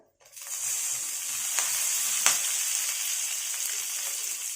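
A sprig of curry leaves hits hot oil that already holds a pinch of asafoetida, for a chow chow poriyal. Close up, the oil gives a steady, bright sizzle and hiss, with a couple of faint crackles and no voices.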